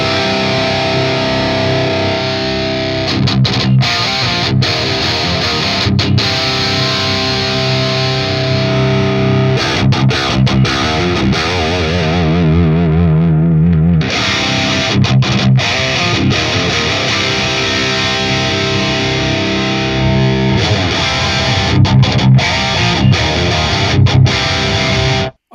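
Distorted electric guitar through a Fortin Nameless amp plugin, miked with an E906, playing dense high-gain riffs with palm-muted chugs, brief stops and a sustained chord in the middle, loud and continuous throughout.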